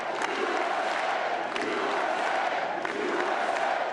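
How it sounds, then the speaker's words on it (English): MAGA supporters cheer and applaud as Donald Trump arrives at a Mar-a-Lago victory gathering, a loud continuous crowd roar with clapping mixed in, swelling slightly in waves. "Donald Trump arriving to applause."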